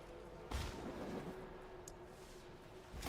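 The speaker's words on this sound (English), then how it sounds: "Many explosions with this double explosion situation" Explosions in the Diablo 4 video game thud out as soft, low booms, one sharp blast early and another near the end, quiet and alone with no talk.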